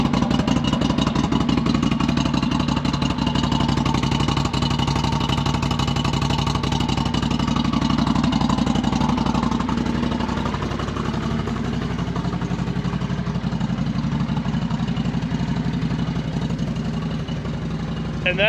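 Loud, close idle of a Can-Am Renegade 850 ATV running with the exhaust tip and baffle taken off, a continuous deep pulsing rumble that holds steady for the whole stretch and eases slightly toward the end.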